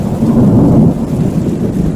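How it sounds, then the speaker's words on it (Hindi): Steady heavy rain with a deep rumbling of thunder rolling underneath, loud and continuous throughout, with no voices. "उनके सब्ज पत्ते बारिश में नहा रहे थे"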